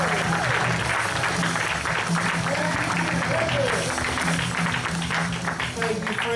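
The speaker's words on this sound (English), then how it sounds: "please clap for Mike Horner!" Comedy club crowd applauding as a comedian is introduced, a full, sustained burst of clapping with some cheering mixed in, loud and close, fading slightly near the end.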